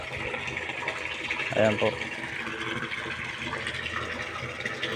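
Water pump filling a newly built concrete tilapia pond, a steady rushing gush of water running continuously at close range, with a brief voice speaking over it.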